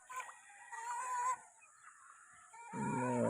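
Chickens call and cluck nearby in short bursts, with a quieter lull between, amid faint farmyard background.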